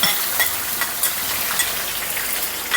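Ginger frying in hot oil alongside popped mustard seeds for cauliflower pickle, a steady close sizzle with faint stirring and small crackles throughout, no voice.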